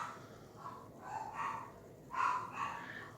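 A pair of dogs bark from a distance indoors near a park, a few faint muffled yaps and woofs rising over a hushed room.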